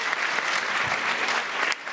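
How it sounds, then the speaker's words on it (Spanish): Brief, lively applause from an audience gathered for a school handover ceremony in Engativá, a dense patter of clapping lasting under two seconds with no voices over it. "un aplauso para Leonardo"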